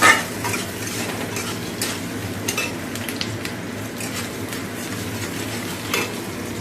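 Oil spattering in a cooking pan, a constant close sizzle with scattered pops and light utensil clinks, a louder knock at the start and no talking.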